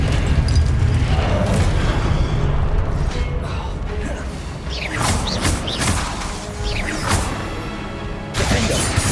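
Blasting curse explosions from the Hogwarts Legacy video game, with booming impacts, crashes and whooshing bursts over a dense, continuous mechanical game soundscape, several hits spread across the clip.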